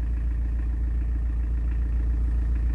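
A car drives along a village road in rural Çanakkale, heard from inside as a loud, steady low engine drone with a faint continuous rattle and no speech.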